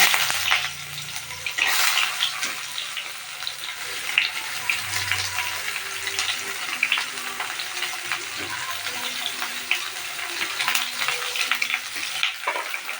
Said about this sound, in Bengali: তেলটা হয়ে গেছে, এবার আমি পেঁয়াজগুলো দিয়ে দিচ্ছি।